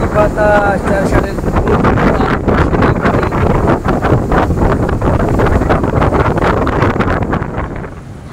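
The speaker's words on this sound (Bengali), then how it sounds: "কি বাতাস" Strong sea wind roars and buffets the microphone on a boat ride in the Maldives, a dense, steady rush lasting the whole stretch, with faint voices partly buried beneath it.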